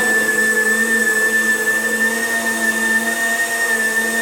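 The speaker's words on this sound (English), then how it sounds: "Any type of blender is going to work for you. Just keep it on a little bit longer." Blender blending carrots into juice, a loud, steady whirring hum with a constant high whine that runs unbroken from start to finish, no voices.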